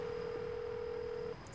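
A telephone number is dialed in a French short film, heard as a single long steady keypad or dial tone that runs for over a second and then cuts off abruptly, close and clear with no voices.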